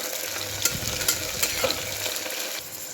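Onion and green chillies frying in a pan, a close, continuous sizzle and crackle with occasional stirring scrapes.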